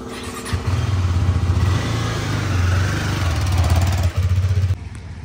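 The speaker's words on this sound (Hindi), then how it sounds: "तो फाइनली गाइस हम इसकी टेस्ट ड्राइव लेने जा रहे हैं, देखते हैं कि बाइक कैसी चल रही है" A Kawasaki ZX14R sport motorcycle revs and rides on a test drive, its engine droning loud and close with steady throttle rises and a brief dip before the note cuts off.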